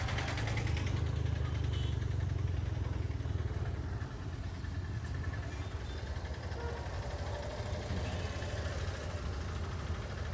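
A motorbike engine idles nearby with a steady low throb that holds level throughout, without speech.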